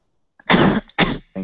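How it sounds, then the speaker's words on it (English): A woman gives a few close, dry coughs on request in a quiet room: one longer burst followed by two shorter ones. "Do a cough for me, please."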